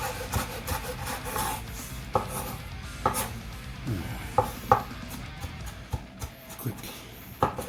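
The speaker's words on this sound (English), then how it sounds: "might as well chop up a little bit more there" Knife chopping ingredients for salmon patties on a cutting board, irregular close taps and scraping strokes with uneven pauses, moderately quiet.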